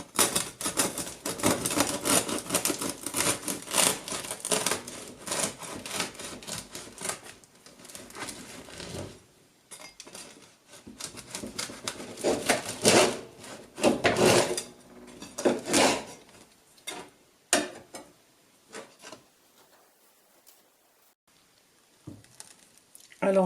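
Knife sawing through a crusty homemade sourdough loaf, a run of dense crackling, crunching strokes that comes in bursts and then trails off into quieter cuts.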